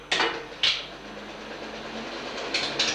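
A film projector clatters into motion with a few sharp mechanical clicks, then settles into a steady whirring rattle at 90 feet a minute, fairly close and moderately quiet.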